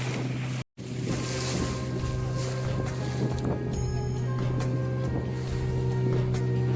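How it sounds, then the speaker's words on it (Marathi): A boat rocks over sea waves on its way to a sea fort, with a steady, loud engine drone and rushing water and wind running throughout, briefly cut off once near the start. "लाटांवर हेलकावे खात आमची बोट किल्ल्याच्या दिशेने पुढे"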